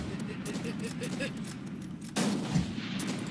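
Sniper rifle shots in the Roblox shooter Call of Robloxia, with one sharp, loud report cracking in partway through over a steady bed of game noise and background chatter.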